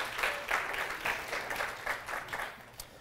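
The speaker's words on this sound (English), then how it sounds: "Round of applause for Jeff" A small crowd claps steadily for a few seconds, the applause fairly close and even, tapering off slightly at the end.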